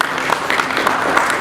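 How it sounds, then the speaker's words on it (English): Short burst of audience applause at a speech by a Sri Lanka Ports Authority chairman, an even patter of clapping, fairly close and continuous. "would you put your hands together for a round of applause?"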